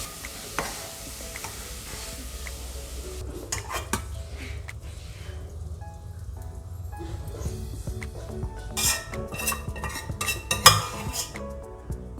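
Metal spoon clinks against a pot or dish while tinned fish is layered for fish biryani, with scattered light taps and scrapes over a low kitchen hum and faint background sizzle.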